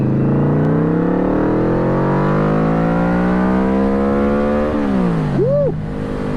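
A Yamaha VMax motorcycle pulls hard in second gear from 30 to 60 mph, its engine note climbing steadily and loudly under heavy wind noise before easing off near the end.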